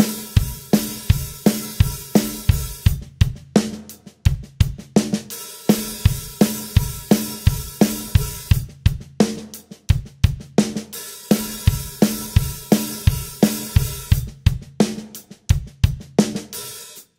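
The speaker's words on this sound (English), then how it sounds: "we're going to loop bar 25, which is our snare kick, snare kick, snare kick, into bar 39" A drum kit plays a snare-kick groove, looping bars 25 through 39: punchy, evenly spaced kick and snare hits in a tight repeating pattern with cymbals, close and clear with no talking.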